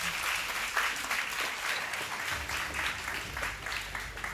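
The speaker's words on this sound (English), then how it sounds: "a round of applause for them." Moderate applause from a conference audience for speakers at a panel discussion on green business, steady clapping from a room of people lasting a few seconds.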